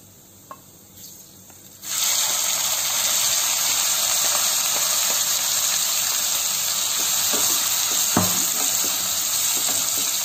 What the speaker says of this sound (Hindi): तेल हमारा गरम था तो हमारे स्पाइसेस और जीरा क्रैक होने लगे हैं अब हम इसमें डालेंगे बहुत फाइनली चॉप किया हुआ प्याज